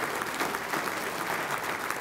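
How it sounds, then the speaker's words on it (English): A crowd at a hockey program's 50th anniversary celebration applauds the event organizers and parents, a brief, dense burst of many hands clapping at a steady, fairly close level. "I think they all deserve a round of applause."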